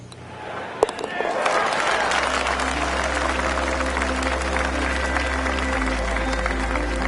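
Crowd applause in a golf video game swells after a short sharp sound and holds as a steady wash of clapping, with a low hum beneath.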